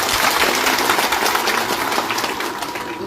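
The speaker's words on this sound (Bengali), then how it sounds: "সবাই একবার জোরদার হাততালি দেবেন" A crowd at an open-air political rally at Maharaja More in Raiganj claps steadily in dense, continuous applause that holds at a constant loud level.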